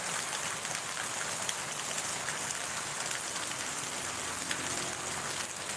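Steady rain falls on a wet morning, a soft, even hiss of drops on surfaces that carries on unbroken and fairly quiet throughout.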